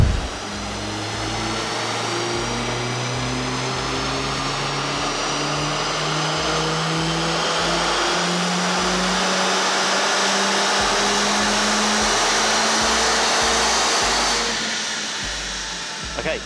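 A stage 2 tuned Mercedes A45S AMG runs on a dyno beside loud cooling fans, a dense, steady roar with an engine tone climbing over about fourteen seconds before easing off near the end.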